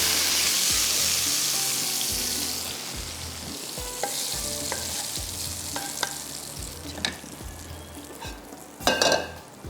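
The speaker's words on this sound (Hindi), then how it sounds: "अब इसके ऊपर जाएगा तड़का" Hot oil tempering sizzles and crackles steadily as it hits a pot of lentils, with a few sharp pops and a louder burst near the end.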